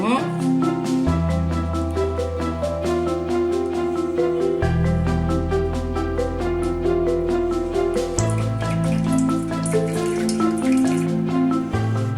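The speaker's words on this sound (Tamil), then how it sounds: "கொஞ்சம் கொஞ்சமா எல்லாத்தையும் வடிகட்டிடுவோம்." Homemade kalonji hair oil drips and trickles through a strainer, soft wet patters over a steady sustained musical tone that shifts pitch every few seconds, with no voices.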